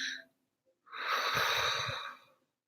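One slow, deep breath, a long airy rush of air lasting about a second, close and clear after a brief sharp intake, with no speech.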